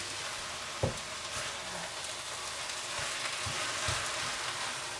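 Beef curry marinade fries quietly in a pan, a faint even sizzle with a few soft scrapes and knocks from stirring.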